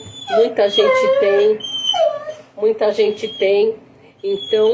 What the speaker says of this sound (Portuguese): Se você escutar um barulhinho de um cachorrinho chorando, é o meu labrador aqui, gente.